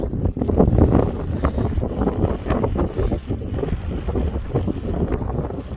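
Wind blows across a mountain hiking path among pine forests on La Palma near a volcano, roaring and buffeting the microphone in continuous loud gusts with no other sound.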